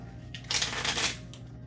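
Question cards for a couples' question game being handled and picked, giving a brief papery shuffle and rustle close by, with no talking.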